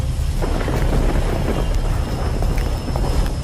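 Heavy rain pours down in a loud, continuous wash during a stormy night, with rumbling thunder rolling underneath throughout.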